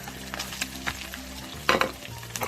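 Small fish with kaffir lime leaves and garlic sizzle steadily in hot oil, with a constant crackling fry and occasional louder spatters and stirring sounds.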